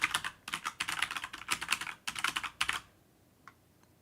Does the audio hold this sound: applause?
no